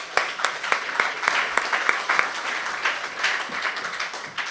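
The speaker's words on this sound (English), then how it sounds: "Give them a round of applause" A conference audience at a hackathon awards ceremony claps for a Crypto Challenge winner, with sharp individual claps standing out over a moderately dense, uneven round of applause that carries on throughout.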